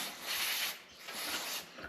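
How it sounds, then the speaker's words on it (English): Carb cleaner sprayed from an aerosol can through a sticky, grimy part on an old circa-1900 Berger bale lift, a steady close hissing spray in two bursts with a short dip between. "I'm going to spray a little of that through here"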